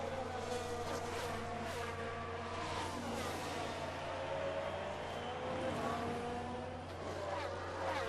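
Formula 1 cars racing in the F1 Manager 22 video game at the Bahrain Grand Prix, Leclerc overtaking Verstappen, with engine whine and passing cars over a constant low drone as a commentator talks.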